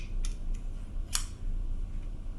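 Cutco kitchen scissors that take apart for cleaning are handled during an unboxing, giving a few faint metallic clicks and one brighter snip-like click near the mic over a steady low room hum.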